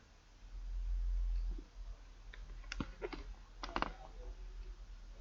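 Sharp computer mouse clicks while navigating a Facebook settings page, a few isolated clicks spaced irregularly and close-up, with a low hum early on and no talking.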